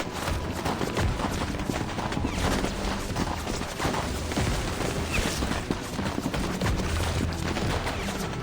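Soldiers behind a barricade fire a heavy, sustained volley in a Reverse: 1999 cutscene, a dense wall of overlapping shots and cracks rolling on without a break.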